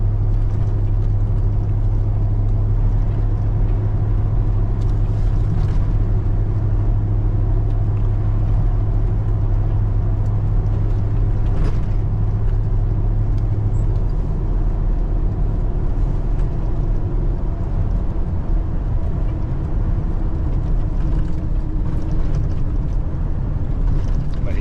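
Interior road noise from a second-generation Dodge Ram pickup rolling over a bumpy rural road, a steady low rumble with a droning engine hum and scattered rattles and thumps from the rough surface, continuous throughout.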